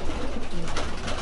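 Pigeons cooing in a pigeon loft, a dense continuous murmur of many birds, loud and close.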